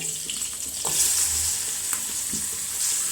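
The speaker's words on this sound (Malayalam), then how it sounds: "എണ്ണ ചൂടായിട്ടുണ്ട്. അപ്പം നമുക്ക് മീൻ ഇട്ട് കൊടുക്കാം." Dried fish sizzles and crackles in hot oil in a home kitchen, a steady close frying hiss with occasional stirring sounds.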